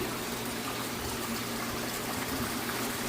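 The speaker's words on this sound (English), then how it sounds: "There's water in the new tanks, finally." Water pouring into a new 3500-gallon tank, a loud continuous rushing gush with a steady low hum beneath, close and unbroken with no voices.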